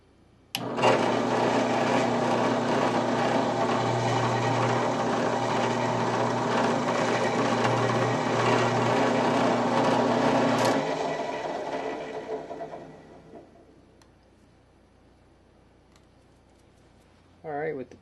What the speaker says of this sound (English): nothing's going to be in the way of the drill bit as it goes through the case